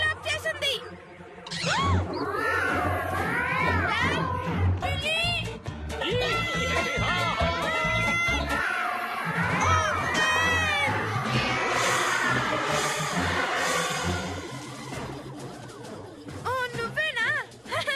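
Cartoon cats meow and yowl in a busy, overlapping chorus, loud and near, mixed with excited voices and a music bed, while characters talk over them.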